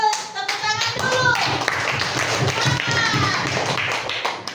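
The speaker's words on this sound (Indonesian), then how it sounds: "Bagus, tepuk tangan dulu." A group of children clap their hands together in a classroom, a busy rhythmic patter of claps mixed with young voices chattering and calling out throughout.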